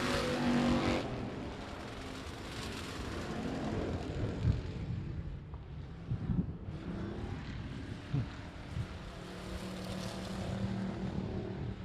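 Race car engines roar on the I-37 Speedway dirt track during the DTK Memorial, a steady loud drone of revving motors with passing cars swelling and fading, broadband and continuous throughout with no speech.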